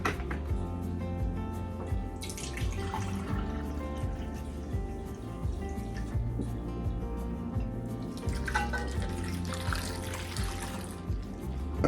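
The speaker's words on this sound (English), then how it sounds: "to these apples, I'm gonna go ahead and add 1 cup of apple cider" Apple cider poured over about 2.5 pounds of apples for homemade apple butter, a steady soft trickle with a couple of brighter splashy swells, heard alone without talk.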